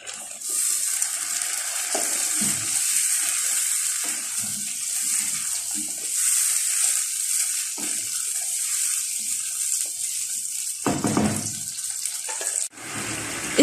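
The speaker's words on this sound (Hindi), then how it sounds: "अब मैं इसमें टमाटर की प्यूरी ऐड कर दूंगी।" Chicken karahi fries over a high flame after tomato puree is added, giving a steady bright sizzling hiss broken by a few short clanks and stirring knocks, with no talking.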